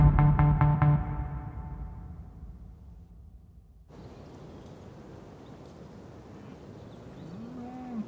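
Cattle moo on a farm, with several long, loud, close lowing calls at the start, then quieter outdoor ambience and a fainter moo near the end.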